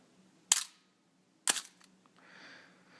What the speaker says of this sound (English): the shutter opened for a full second